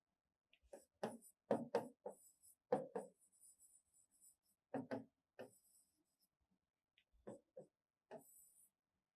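Pen strokes during a Class 10 science lesson: short, quiet scratching bursts come in irregular clusters with gaps of silence between them while a heading is written out.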